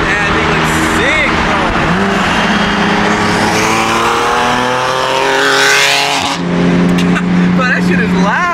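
BMW M3 with a loud engine driving past, a roaring rise and fall from close by, with people talking over and around it.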